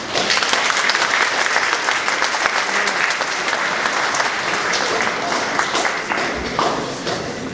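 Sustained applause from a congregation at a church confirmation service for 21 young people, steady dense clapping lasting throughout with a light thump near the end.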